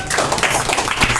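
A group of people at an academy claps together in a dense, continuous patter of quick, close hand claps, with no talk over it.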